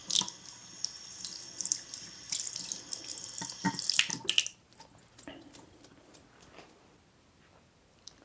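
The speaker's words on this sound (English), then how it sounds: "Alright, so we're over here by the sink. I'm gonna rinse it." A kitchen sink tap runs while a burnt, charred stainless steel pot is rinsed, splashing steadily and close for about four seconds before cutting off, followed by faint drips and small handling sounds.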